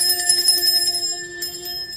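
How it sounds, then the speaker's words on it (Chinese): A small bell rings with a bright metallic tone, a single sustained strike that shimmers and slowly decays, alone and close. "第一个，我们听听铃铛，"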